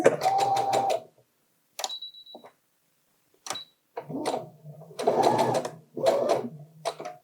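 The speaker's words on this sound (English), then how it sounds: "So I'm just going to start slowly sewing and attaching my thread." A sewing machine stitches a knitted cardigan to secure a steek, running in short bursts of rapid whirring with pauses between, plus a few clicks and handling sounds.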